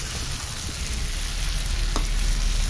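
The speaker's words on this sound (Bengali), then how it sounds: "এখন মাছগুলো দিয়ে দিচ্ছি, ভাজা মাছগুলো। এখন ভালোভাবে নাড়তে হবে।" Fried fish stirred in a pan with spices and coriander leaves, giving a steady sizzle and crackle of hot oil with faint scraping from the stirring.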